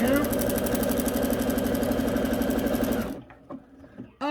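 A sewing machine stitching button holes runs in a fast, steady mechanical rhythm for about three seconds, then stops, leaving a few quiet clicks and handling noises.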